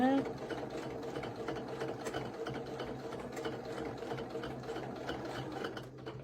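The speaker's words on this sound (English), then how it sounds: "We'll just sew right over this way." A sewing machine stitches a cathedral windows quilt in a steady, continuous hum that runs close and even throughout, with a faint voice briefly underneath.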